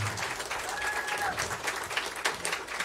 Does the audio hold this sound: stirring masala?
no